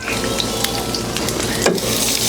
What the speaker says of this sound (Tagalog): Hintayin nating mag-lightly brown ang bawang